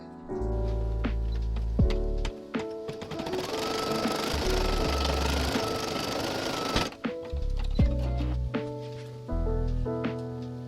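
A computerized embroidery machine stitches a patch with a rapid mechanical needle clatter, close and steady, broken by short pauses and thumps as it shifts between sections, with no talking.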